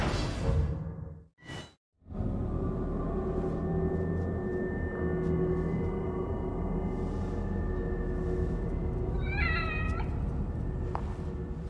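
A cat meows in The Evil Within horror game, a single clear mewing cry late on, set against a constant low ambient drone after a brief whooshing burst at the start.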